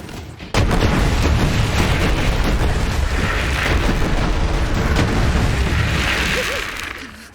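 Alternate fire of a Borderlands 3 legendary gun lobbing about five mortar-like projectiles, a sudden heavy boom followed by a dense rumbling barrage of blasts and bursts that holds loud for several seconds before fading.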